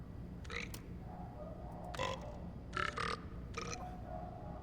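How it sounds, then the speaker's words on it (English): Video game characters speak entirely in burps: a string of short, throaty belches of varied pitch, about four separate bursts spaced a second or so apart, over a steady low background hum. "And everyone talks just by burping."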